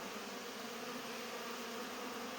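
Honeybees on a winter cleansing flight around their hives in January make a steady, even, dense buzz at moderate distance, continuous and unbroken with no voices.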